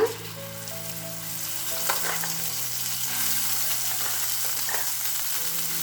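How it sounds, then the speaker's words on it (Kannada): Spice paste sizzling and frying steadily in a spoonful of oil in a pan over a medium flame for a capsicum and garlic dish, with a continuous bright crackle and a few soft scraping stirs, no talking. "ಇದು ಒಂದು ನಿಮಿಷ ನಾವು ಈ ಥರ ಎಣ್ಣೆಯಲ್ಲಿ ಹುರ್ಕೊಳ್ಳೋಣ"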